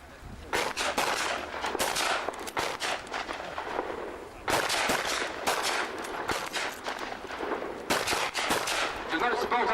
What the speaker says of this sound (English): So the rifleman, please turn to your right and rapid fire, please.